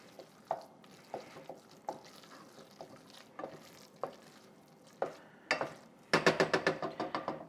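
Dairy-free tzatziki sauce with dill and lemon juice being mixed in a bowl, a series of soft wet taps and scrapes at an uneven pace, ending in a faster run of brisk clicking strokes, close and quiet.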